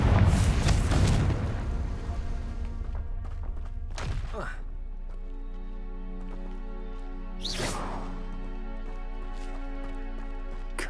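Confringo blasting spell in Hogwarts Legacy going off: a heavy booming thud opens, then two sharp whooshing blasts land several seconds apart over a faint game score of sustained tones.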